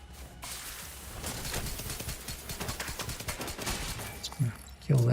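Gunfire in a sci-fi shooter video game: a rapid stream of shots in a rattling burst lasting several seconds, followed by a couple of louder hits and brief voice fragments at the end.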